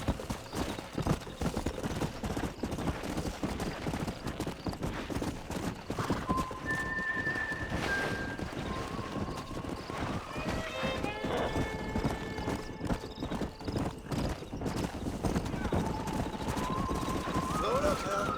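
Horses clip-clop steadily at a gallop in Red Dead Redemption, with loud whinnies breaking through and people speaking over the hoofbeats.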